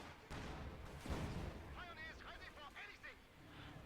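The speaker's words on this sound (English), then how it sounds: "Looks like another landmine." A landmine blows up in a Company of Heroes 2 match, a heavy, rumbling explosion followed by a lingering boom and scattered battle noise, with a commentator talking over it.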